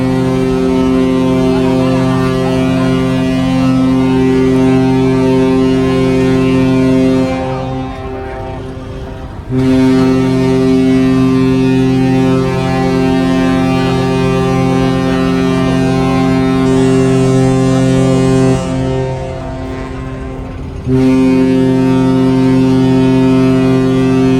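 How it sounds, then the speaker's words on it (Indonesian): A deep, loud ship horn on the PELNI passenger ship KM Kelud blasts in long sustained departure tones, cutting off briefly twice between blasts, with wind rushing against the microphone. "Kalau udah klakson 3 kali, itu kita persiapan berangkat."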